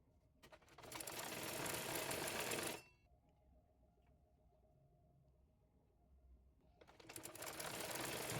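An electric sewing machine stitches a kameez sleeve with thin piping, running in two loud, steady bursts separated by a quiet pause of low hum before it starts again.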